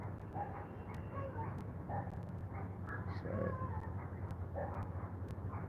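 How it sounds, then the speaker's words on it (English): Dogs yip and whimper at a distance over a low steady hum, short cries repeating irregularly. "dogs yelling, barking"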